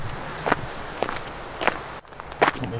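Footsteps from loud shoes on an outdoor hiking trail, four or five distinct crunching steps at an uneven, unhurried pace, fairly close and moderately loud over a faint outdoor background.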